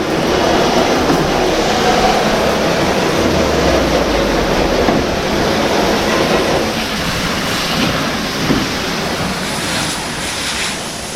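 Water spraying steadily across a car engine bay during a light rinse, a loud continuous rushing hiss that barely changes in level, close by, with no talking.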